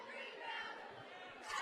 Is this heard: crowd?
yes